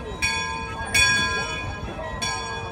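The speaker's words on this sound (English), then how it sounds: "Never realized how loud that bell is." The loud bell aboard the Mark Twain riverboat at Disneyland clangs three times in a slow, uneven rhythm, each ring bright and close with a ringing tail, over a murmur of crowd and voices.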